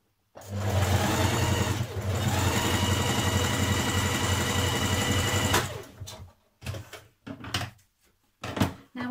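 A sewing machine stitches a skirt seam in a steady continuous whir for about five seconds, then stops, followed by a few short mechanical clunks and taps as the fabric is adjusted.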